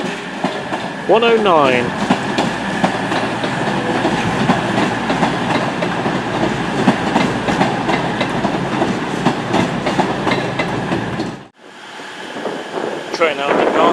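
A Virgin Super Voyager train pulls into a station platform at Crewe with a loud, steady rumble and rolling rail noise for most of the time, under a brief station announcement, then a sharp drop near the end.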